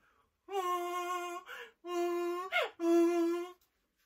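A human voice imitates a donkey's bray: three long, loud, nasal honks separated by sharp gasping inhales.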